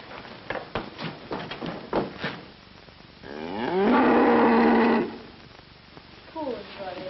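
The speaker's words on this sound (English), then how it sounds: "She's lying in her stall moaning and mooing." A cow lying in her stall lets out one long, loud moo lasting a couple of seconds, preceded by people talking and followed by quieter speech, in the 1940 film Little Men.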